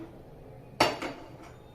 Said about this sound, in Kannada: ಇವಾಗ ಒಗ್ಗರಣೆಗೆ ಕುಕ್ಕರ್ ಇಡ್ತಾ ಇದ್ದೀನಿ